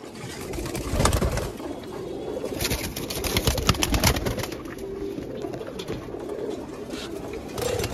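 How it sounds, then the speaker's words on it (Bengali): Roller-type pigeons, one of them silver, coo in a loft among many birds, with soft repeated throaty calls and a few wing flutters over steady low background noise and no speech. "রোলার টাইপের কবুতর"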